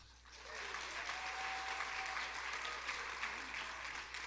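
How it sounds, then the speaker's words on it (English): A crowd at a humanities discussion event claps steadily in answer to a host's question, a dense, sustained round of applause heard from within the room, with a faint voice briefly underneath. "I'm going to ask you to answer by clapping anyway"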